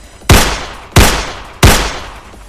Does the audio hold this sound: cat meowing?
no